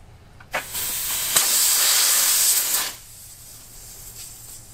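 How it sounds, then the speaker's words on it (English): Compressed air hisses loudly into a car tire being mounted, a sharp steady rush that starts abruptly, holds for a little over two seconds, then cuts off, leaving low background noise. "you can either finish airing the tire up here"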